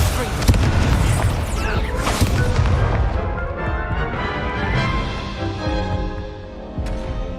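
Incendio fire spell cast during a duel in a wizarding video game: a loud burst of whooshing, booming fire and crackling blasts, dense and close, fading into a ringing tail with some voice underneath.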